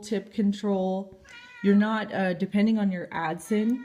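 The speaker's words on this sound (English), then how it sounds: "So that's my cat." A cat meows loudly and close by, several drawn-out, insistent cries in quick succession while a person speaks at the same time.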